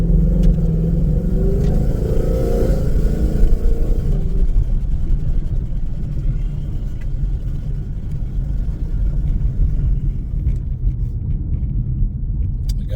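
Low, steady engine rumble from inside a moving Ford Mustang S550 with stainless aftermarket exhaust headers, windows up, a throaty exhaust drone that holds constant throughout with no talking.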